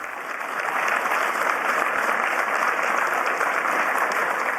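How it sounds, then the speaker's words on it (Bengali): World leaders applauding at the Davos World Economic Forum for Canada's Prime Minister Mark Carney, a dense, loud, steady roll of clapping from a large hall audience that swells slightly at the start. "বিশ্ব নেতাদের এই তুমুল করতালি কানাডার প্রধানমন্ত্রী মার্ক কার্নিকে ঘিরে"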